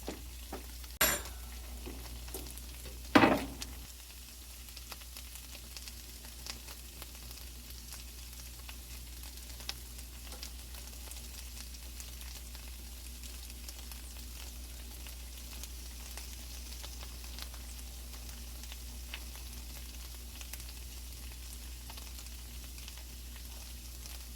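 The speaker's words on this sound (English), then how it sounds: "now we're going to stir our potatoes around." Seasoned breakfast potatoes fry and sizzle in a cast iron skillet, a steady low crackle with two sharp scrapes of stirring near the start, then continuous quiet frying with no talk.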